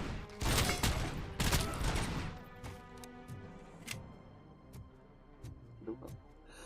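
Gunfire from a micro SMG in the RoboCop video game, a burst of dense loud shots up front, then scattered sharp reports and impacts fading through the rest, with some game sounds underneath.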